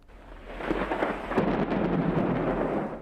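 A thunderstorm with a rolling rumble of thunder over steady, hissing rain, loud and sustained throughout.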